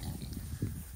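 Kunekune pigs being moved to fresh pasture grunt low and steady, with one louder grunt near the end over a constant outdoor rumble.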